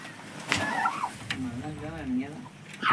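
Tame turkeys on a mixed poultry farm let out warbling, wavering gobbles in a couple of bursts, close by, over a low farmyard background.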